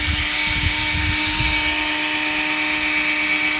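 A drill spins a buffing pad against a car headlight on a Bentley outdoors, a steady whirring motor drone with a constant tonal hum and some low rumble from wind, running continuously throughout.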